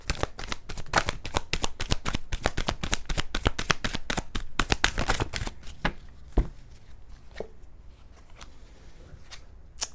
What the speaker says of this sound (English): as I was shuffling those cards